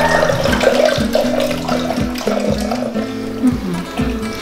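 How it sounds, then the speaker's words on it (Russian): Cold water pours into a vinegar brine for marinating a turkey, a steady rushing splash running the whole time, fairly close, with a few faint clinks and no talking. "И залью холодной водой."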